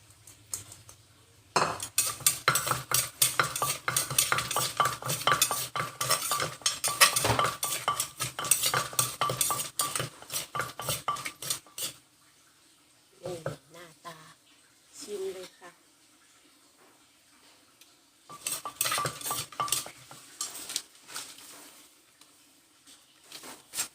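Green onions being stirred into a mushroom curry in a pan, with rapid metal utensil scraping and clinking in bursts, pausing briefly, while someone talks in between.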